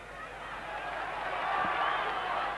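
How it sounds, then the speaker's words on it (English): A big football stadium crowd at a 1990 Colombia vs Soviet Union match roars in a steady, distant wash of cheering that swells slightly toward the end, with no clear single voices standing out. "the crowd wanting action"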